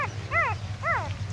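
A dog in a village lets out two whining, yipping cries about half a second apart, close and clear over a low steady hum.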